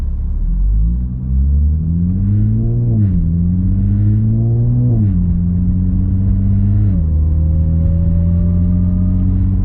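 Audi S4 fitted with an AWE Tuning Touring exhaust, held near 2,000 RPM in automatic mode: a steady, loud exhaust drone that climbs in pitch, dips at each upshift, then settles into a constant hum, with no talking.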